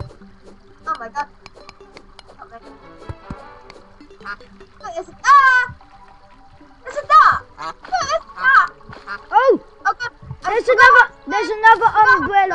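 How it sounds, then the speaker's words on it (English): Ducks quack in the video game Terraria as repeated, nasal, mid-pitched calls in scattered bursts, heard alongside children's game chatter and light game sounds. "Look, there's a duck here."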